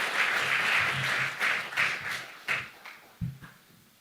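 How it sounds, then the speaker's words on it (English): Conference hall audience at the Kenya Carbon Markets Conference 2024 applauds to welcome a keynote speaker; the clapping is full at first, then thins into a few scattered, separate claps before stopping. "We can do that with a clap to welcome him."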